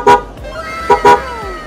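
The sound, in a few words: aftermarket horn on an FKM Venture 150 motorcycle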